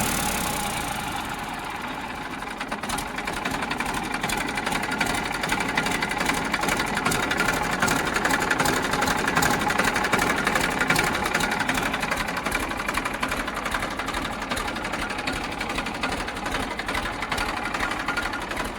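A Massey tractor's diesel engine runs close by with a dense, knocking chatter, climbing from a slow idle to a loud, sustained full rev that holds steady to the end.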